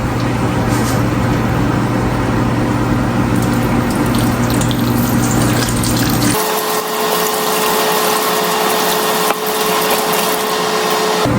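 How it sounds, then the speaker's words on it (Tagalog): Cut tomatoes are washed under a running tap, a steady gush of water with a loud hum that cuts off partway, after which the water runs on in a thinner, higher stream. "hugasan po natin gawa ng may mga buto po ang ating kamatis."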